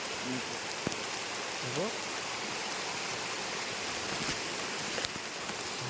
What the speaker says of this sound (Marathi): जोरात पाऊस आला आहे.